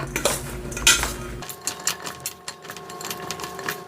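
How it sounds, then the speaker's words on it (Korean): Shishito peppers are tossed with sprinkled flour in a bowl, making close, irregular clinking and scraping against the bowl, with some louder knocks near the start. "이 상태에서 밀가루를 뿌려서 어, 버물버물 해줄 텐데요"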